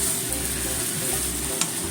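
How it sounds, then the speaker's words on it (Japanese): Sweet potato kinpira is stir-fried in a pan, a steady close sizzle with soft stirring scrapes and a faint low hum underneath, no speech. "そして炒めますね。"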